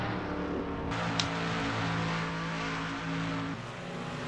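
Race cars run side by side at a speedway, making a continuous loud engine drone with steady pitch and a slight shift near the end. No talk is heard.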